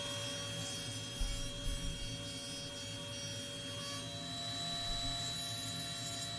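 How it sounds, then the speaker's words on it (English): A table saw runs steadily while trimming red oak cabinet parts to width, a constant high machine whine and hum with a few brief low thumps as the wood feeds through, no voices. "We'll use the table saw to trim these all to the right width as well"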